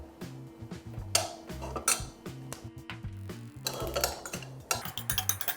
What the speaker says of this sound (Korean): 무랑 같이 볶아주셔도 됩니다.